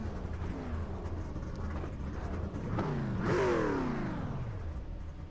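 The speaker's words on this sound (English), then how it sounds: "See them revving them up, getting ready to go." Race trucks in a truck-series racing video game rev their engines while lined up before the start, a steady whirring drone that swells into a louder rising rev near the end.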